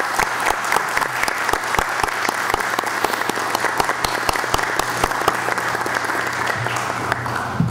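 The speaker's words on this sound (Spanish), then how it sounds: "rendir un fuerte aplauso por el trabajo en seguridad ciudadana que venimos realizando" An audience claps hard at a public safety committee meeting, a dense, continuous round of applause with sharp individual hand claps standing out, sustained throughout with little talk.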